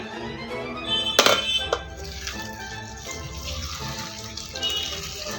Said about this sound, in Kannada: ನೀಟಾಗಿ ತೊಳ್ಕೊಳ್ಳೋಣ ಬಿಸಿನೀರು ಹಾಕಿ